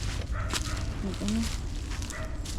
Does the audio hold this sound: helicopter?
no